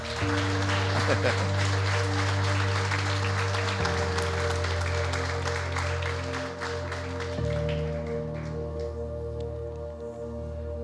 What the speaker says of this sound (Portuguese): Se coloque de pé e aplaude Jesus esta noite.